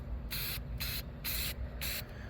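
Spray can of primer painting a model rocket: four short bursts of hissing spray separated by brief pauses, close and loud over a low background hum.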